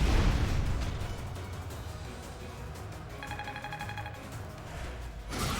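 An explosion in the video game Fire Emblem: Three Houses opens with a loud, low boom. Thinner tonal chiming effects follow before another rumbling burst near the end, with no voices.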